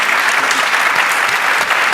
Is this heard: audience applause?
yes